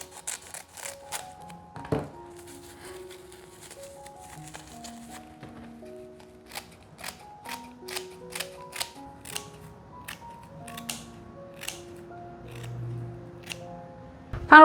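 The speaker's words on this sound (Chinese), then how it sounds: "对折剪成长条状" Scissors snip king oyster mushroom into long strips, a run of crisp close cuts in an uneven rhythm, with soft handling sounds and background music underneath.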